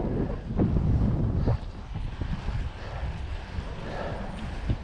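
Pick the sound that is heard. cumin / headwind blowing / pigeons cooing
headwind blowing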